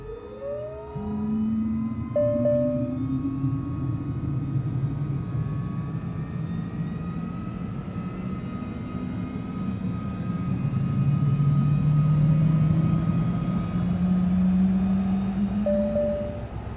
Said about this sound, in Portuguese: Ó, aqui a gente liga o motor.